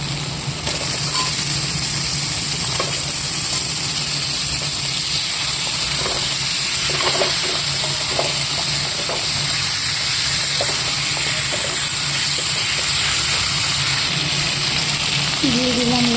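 Goat meat sizzles in a hot pan, a loud, dense, continuous hiss that stays close and steady throughout.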